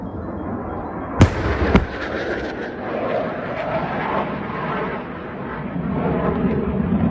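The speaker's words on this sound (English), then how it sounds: "Ukrainian Su-27M launching an AGM-88 HARM anti-radar missile." Ukrainian Su-27M jet firing an AGM-88 HARM anti-radar missile: two sharp loud cracks early on, then a sustained broadband roaring rush of jet and rocket noise that continues steadily to the end.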